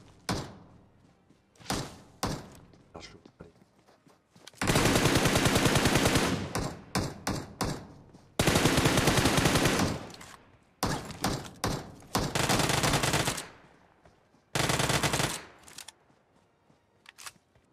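Video game gunfire from an M4 rifle breaks out in several sustained automatic bursts separated by pauses, with short single shots and thumps scattered between, loud and close.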